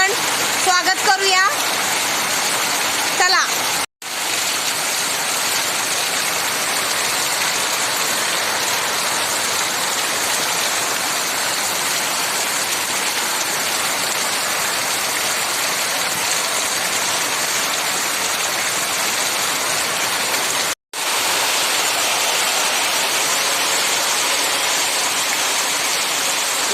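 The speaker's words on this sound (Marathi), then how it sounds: "बघा पाणी केवढं मोठं वाहतंय आणि पाऊस पण किती मोठा पडतोय बघा" Heavy cloudburst rain pours down on farm fields in a constant loud roar, mixed with rushing water flowing across the fields, with a couple of brief dropouts and a few faint voices early on.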